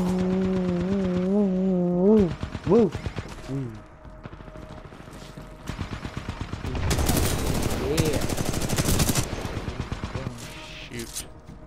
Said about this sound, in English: Oh, the dude set a turret down there. That's what I was getting shot by.